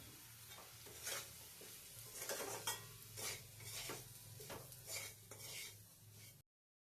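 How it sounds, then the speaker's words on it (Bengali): Semolina toasting in a pan with already-fried vegetables for an egg semolina halwa, a steady close sizzle broken by repeated scraping strokes of a spoon, with no voices. "এখন দিয়ে দেব সুজি, সুজিটাকে দিয়েও ভালো করে ভেজে নেব।"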